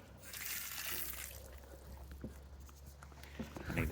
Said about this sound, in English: they rinse that acid off of everything